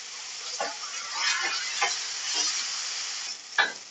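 Spice masala with ginger paste, tomato, chilli and cumin powder, plus a splash of water, sizzles in a pan as a steady close hiss, with a few soft scraping strokes from stirring.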